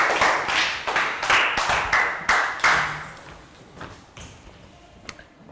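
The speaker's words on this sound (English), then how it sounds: "Round of applause for 2." Year 3 pupils in a health education lesson clap for a classmate, a brisk round of close claps that thins out and fades after about three seconds.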